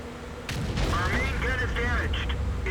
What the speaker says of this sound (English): Now, this Su-152 has the 152mm gun, and he's firing